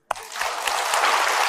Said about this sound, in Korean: 베드로 위에 박수.